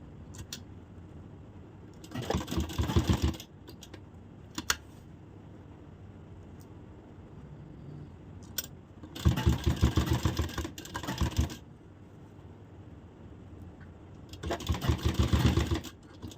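A sewing machine stitching a Madhubala blouse runs in three loud bursts of a few seconds each, with quieter pauses between them and no voices.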